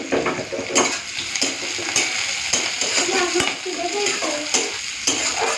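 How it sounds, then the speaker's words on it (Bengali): Onion, green chili and five-spice sizzle in hot oil to temper dal. A steady frying hiss runs throughout, with repeated scrapes and clinks of a spoon stirring in the pan and a voice speaking now and then. "পেঁয়াজ আর কাঁচা লঙ্কাটা দিয়ে দিচ্ছি পাঁচ ফোড়ন দিয়ে দিচ্ছি"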